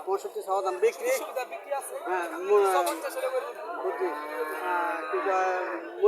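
Bull calves and other cattle at a rural livestock market in Chauddagram, Comilla give several drawn-out moos in a row. Soft crowd chatter runs underneath.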